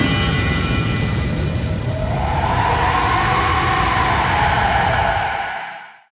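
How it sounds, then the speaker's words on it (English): A synthesized scream layered over a fire background soundscape: dense roaring, crackling noise throughout, with a wavering tonal cry emerging after about two seconds and holding until everything fades near the end; no speech. "let's listen again with the fire background soundscape."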